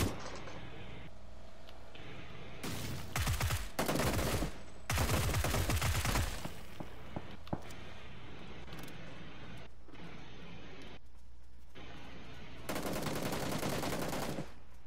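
Bursts of gunfire in the battle royale game PUBG, two loud volleys of rapid shots near the start and another sustained burst near the end, over a steady background rumble.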